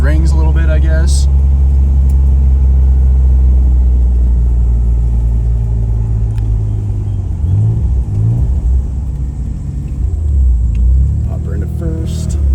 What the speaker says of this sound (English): Some engine braking, help those rings a little bit